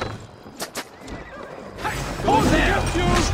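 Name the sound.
horse neighing, video game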